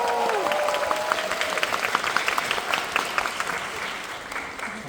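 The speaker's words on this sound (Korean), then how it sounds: "큰 박수로 보내주세요." Audience applause at an essay gathering's stage event, a dense burst of clapping that holds steady and slowly tapers, with a brief tone at the start.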